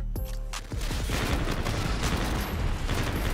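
The UMP submachine gun in the shooter game Infinite Warfare fires rapid continuous bursts, loud and close, rattling steadily from just after the start to the end.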